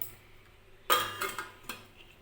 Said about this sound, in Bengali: এটা আমি একটু ঢাকা দিয়ে দিচ্ছি।